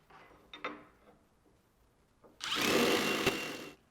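A few short taps and whirs, then a loud power drill runs steadily for about a second, driving a grabber screw to secure a sliding barn door bracket before stopping.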